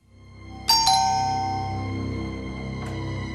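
A household doorbell gives a bright two-tone ding-dong chime up close, followed a couple of seconds later by a single further ring that lingers and fades, with no talk over it.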